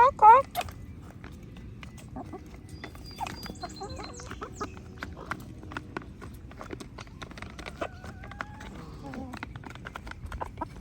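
Chickens cluck in a village in the early morning, scattered and moderately distant, with clip-clop sounds and a voice speaking faintly in the background.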